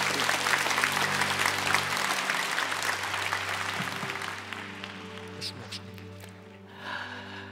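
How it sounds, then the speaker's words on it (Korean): A church congregation at Bujeon Church gives a long, dense round of applause that starts loud and close, then gradually thins and fades toward the end. "우리 박수 한번 하면 안 될까요?"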